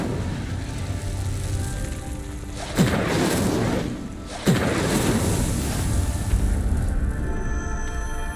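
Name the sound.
Incendio fire spell in video game Hogwarts Legacy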